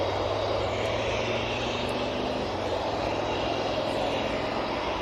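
Aircraft at East Midlands Airport roaring on takeoff, a loud continuous broadband engine rumble that holds steady throughout, with no talking.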